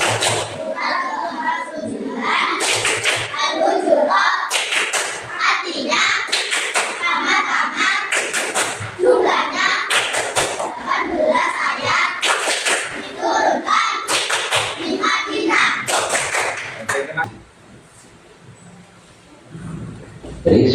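Children in an Islamic religion class chant in unison while clapping rhythmically in repeated bursts of taps and claps, their voices loud throughout before the clapping fades into quieter talk near the end.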